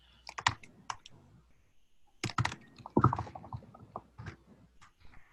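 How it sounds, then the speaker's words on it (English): Typing on a computer keyboard comes in irregular clusters of quick, crisp key clicks, close and moderately loud, separated by brief pauses. "While you're typing"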